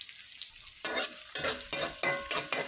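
Chopped garlic, onion and green chillies frying in a pan, stirred in repeated bursts of loud sizzling and scraping, about five strokes in quick rhythm.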